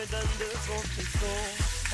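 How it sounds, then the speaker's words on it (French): Loud, steady sizzling of peppers, tomato, onions and chili frying in a pan, with rhythmic stirring scrapes breaking through the hiss. "on peut maintenant faire la friture des légumes qui vont les accompagner"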